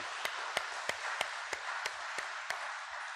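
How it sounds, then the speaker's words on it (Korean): A church congregation at a Sunday worship service claps together in steady unison, about nine evenly spaced claps, faint and distant over a soft hall hiss. "우리 다 같이 하나님 앞에 영광의 박수로 돌려드리도록 하겠습니다"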